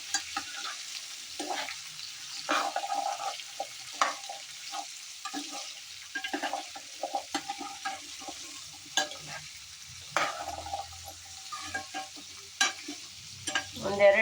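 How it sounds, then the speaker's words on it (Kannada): Sweet pumpkin pieces sizzle in hot oil tempering in a pan, with a spoon repeatedly scraping and stirring them, close and clear, the fry crackling steadily throughout. "ಕುಂಬಳಕಾಯಿನ ಹಾಕಿ ಚೆನ್ನಾಗಿ ಮಿಕ್ಸ್ ಮಾಡೋಣ ಒಗ್ಗರಣೆಯಲ್ಲಿ"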